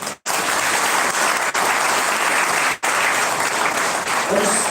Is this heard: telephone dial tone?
no